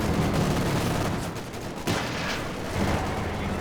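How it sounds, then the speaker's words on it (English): Dense gunfire and explosive impacts from a Company of Heroes 2 tank battle, with bazooka rockets hitting tanks amid continuous loud crackling rattle and a heavier blast near the middle. "Bazookas connecting."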